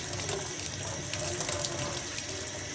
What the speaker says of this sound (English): Put some clean water in here and cut up my cabbage.